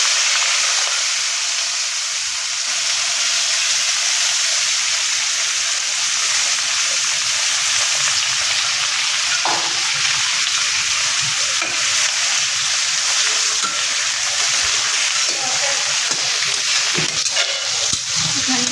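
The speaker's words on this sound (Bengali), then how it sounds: "হালকা নেড়ে করে নিচ্ছি পেঁয়াজগুলোকে ভেজে নিচ্ছি" Chopped onions fry in a kadai, giving a loud, dense, unbroken sizzle that runs close and steady throughout, with occasional faint stirring knocks beneath it.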